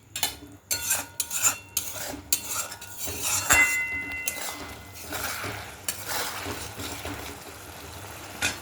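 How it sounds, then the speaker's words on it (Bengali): Spices with salt are sautéed in a pan, spatula clinking and scraping against the metal in uneven bursts over a faint, steady sizzle, with no talking. "মশলাটা একটু কষিয়ে নিই।"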